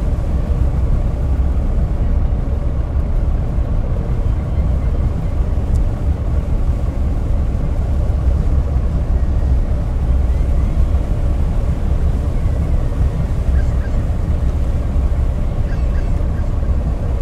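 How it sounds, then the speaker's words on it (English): A scallop-fishing ship sailing across the open ocean in the game Fishing: North Atlantic, heard as a constant, loud, low engine-and-water rumble that holds steady throughout with no talking. "I generally just manually sail the ship"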